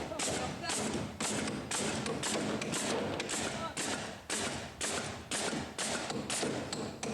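Rapid, regular hammer blows drive nails into wood, around two strikes per second, close and loud with only short pauses between runs.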